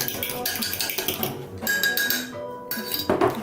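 Clinking and scraping of a utensil against a dish while mayonnaise and cheese are mixed for keto eggs Benedict, with sharp taps and rattles, close and fairly loud.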